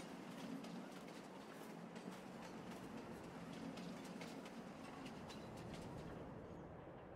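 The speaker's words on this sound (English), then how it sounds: "All right, let's see about calling the train." A train arriving in the farming video game Farming Simulator 22, its rhythmic clickety-clack of wheels on rails rolling along steadily at moderate distance with a low rumble, no voices over it.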